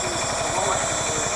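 An old Marshall tractor engine runs steadily at a steam rally, its low rhythmic chugging thumps repeating evenly beneath a constant hiss and general fairground noise.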